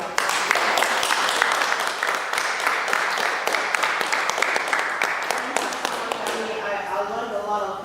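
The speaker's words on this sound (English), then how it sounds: "Let's give Dami a round of applause." A crowd gives Dami a round of applause at a Q&A closing session: dense, sustained clapping with sharp individual claps standing out, tapering off and fading near the end.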